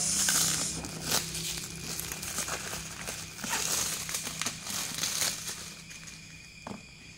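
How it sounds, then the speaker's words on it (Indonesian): Crinkling and rustling of packaging as a book, Musnad Ahmad volume 16, is unboxed, close and fairly steady with occasional sharper crackles, no talking. "Kali ini kita unboxing Musnad Ahmad jilid ke-16"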